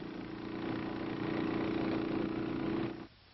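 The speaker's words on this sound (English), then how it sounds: "After all openings are sealed, the engine is started." A steady mid-pitched engine drone drives a fan that blows CS chemical into a sealed tunnel during a 1969 military tunnel-denial operation. The engine runs loud and even for about three seconds, then cuts off abruptly.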